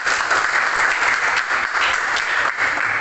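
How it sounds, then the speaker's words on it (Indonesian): Steady applause from a room full of people, dense even clapping that holds at a constant level throughout with no talking. "Tepuk tangan dulu sekali"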